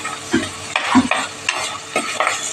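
Curry leaves and split dried red chillies fry in hot oil, soft sizzling under repeated scraping stirs of a spoon against the pan, close by with no talking.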